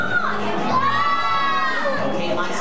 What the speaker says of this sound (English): Do you want to shout out the word, dog? As loud as you can, okay?